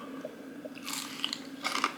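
Someone bites into a crunchy homemade chicken finger, giving two crisp crunching bites about a second apart, close up over a faint steady hum.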